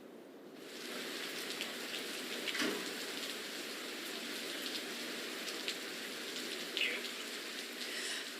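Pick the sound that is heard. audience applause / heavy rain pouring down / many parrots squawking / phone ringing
heavy rain pouring down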